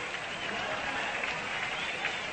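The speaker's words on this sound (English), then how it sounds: "as each man comes up to the plate for the first time, he's announced. And, of course, the applause follows through" Crowd applause at Sportsman's Park during a 1942 World Series baseball game as batter Musial is announced: steady, even clapping from a large distant crowd, heard through an old radio broadcast.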